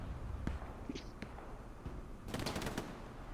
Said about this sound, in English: It's an MG battle here